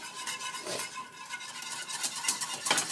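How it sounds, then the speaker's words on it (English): Yogurt soup, Gujarati kadhi, being whisked steadily in a pot, a continuous scratchy stirring texture with small irregular clinks rising slightly louder toward the end, no talking. "Just going to continue whisking this away."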